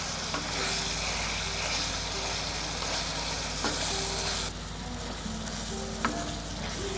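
Tawa beef with tomatoes frying in oil on a hot griddle, giving a steady, close, continuous sizzle with faint stirring scrapes and no talk.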